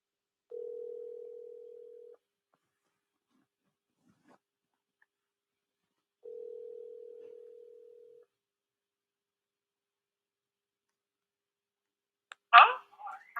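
On a landline phone call, two long, steady ringback tones sound with silence between them. A brief faint voice follows at the end.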